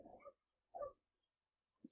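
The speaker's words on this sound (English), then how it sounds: "not sure if you hear the dogs barking out there outside right now" Dogs barking outdoors at a distance, two short faint bursts separated by a pause, with a brief third yelp at the end.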